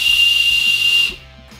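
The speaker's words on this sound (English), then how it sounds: "a whistle built into the base of the knife" A whistle built into the base of a survival knife is blown loudly with a steady, shrill single pitch for about a second, then cut off, leaving faint background noise.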